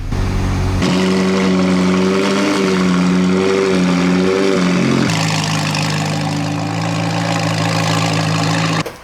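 A McLaren 720S engine runs throughout as it warms up, with a loud, steady idle and a droning tone that rises and wavers. After a short blip the idle settles lower and carries on evenly until it cuts off at the end.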